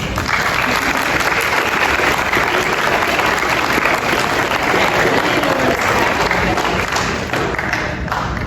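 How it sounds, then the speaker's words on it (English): An audience at a middle school eighth grade celebration and awards ceremony applauds steadily and loudly for the full length, a dense wash of clapping with no lull. "You guys can give a round of applause."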